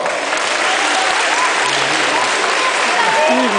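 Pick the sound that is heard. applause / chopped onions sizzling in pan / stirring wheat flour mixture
applause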